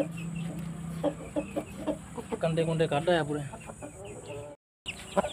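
An Aseel rooster over a year old clucks in short bursts at close range while someone talks over it, with a faint high hiss in the background and a brief dropout near the end.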